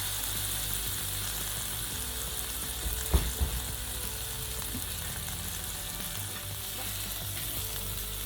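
Tofu sautéing in a pan for a vegetarian dish gives a steady, close sizzle and fry throughout, with a couple of brief stirring knocks near the middle.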